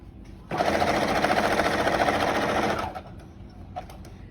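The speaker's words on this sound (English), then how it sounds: "And then you just sew across your entire line, sewing your 2 tortillas together." A sewing machine stitches two fabric tortilla pieces together in one steady, loud run of about two and a half seconds, then stops. Soft handling noises follow.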